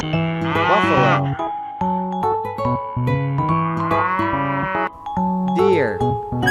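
A buffalo lows in long, drawn-out calls, loud and close, with a few separate moos following one another across the stretch.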